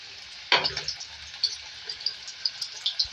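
Raw banana slices dropped into hot oil, a sharp initial splash and sizzle followed by quieter bubbling pops, close and fairly faint.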